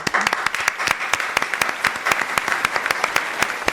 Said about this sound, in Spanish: les pido un muy fuerte aplauso para Lucía Bellocchio.